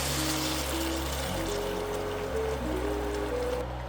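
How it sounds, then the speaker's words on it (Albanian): A cup of boiling water pours steadily into a pan already holding spices and salt, a close, continuous trickle and stream lasting a few seconds. "dhe një filxhan uji të valuar."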